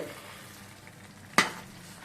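Brinjal masala frying in oil in a pan, a soft steady sizzle with one sharp scrape of a spoon as it is stirred, close and quiet, no voices.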